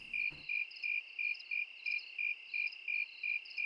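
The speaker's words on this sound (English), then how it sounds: "who has crickets this loud" Loud, steady cricket chirping in a game city at night, pulsing in an even rhythm of about three bursts per second, close and continuous after a brief thump at the start.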